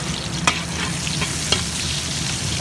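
Onion frying in a pan for tuna steaks, a steady close sizzle with occasional sharp crackles and stirring scrapes, no voices.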